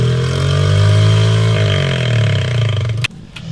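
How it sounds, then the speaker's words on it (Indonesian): A Honda Beat scooter with a modified exhaust revs loudly up close, holding a steady droning engine tone that slowly falls in pitch before cutting off abruptly, followed by a couple of sharp clicks. "ketemu video motor Beat yang dimodifikasi knalpotnya, yang lebih sering disebut Beat Ember"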